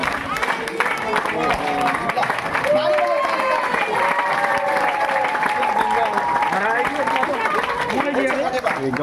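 Audience clapping at a church revival conference in Nepal, scattered applause running under a loud voice and sung or shouted lines, with crowd chatter mixed in throughout.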